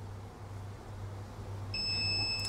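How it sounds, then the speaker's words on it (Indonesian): A TSR Zetta heat press machine's timer alarm starts sounding partway through: steady, shrill electronic beeping over a low, constant machine hum, close and fairly clear. "Oke, alarmnya juga berbunyi sesuai durasi."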